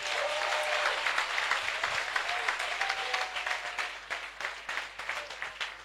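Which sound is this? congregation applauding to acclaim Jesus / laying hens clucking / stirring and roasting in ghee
congregation applauding to acclaim Jesus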